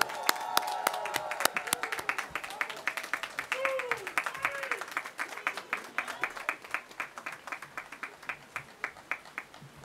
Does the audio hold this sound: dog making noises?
no